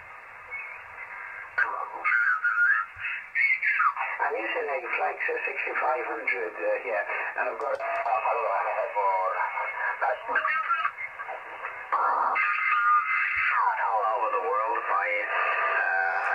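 Amateur radio voice signal playing through the small internal speaker of a Yaesu FT-817 transceiver, with narrow, band-limited speech running almost continuously and a brief pause near the start, clear and moderately loud.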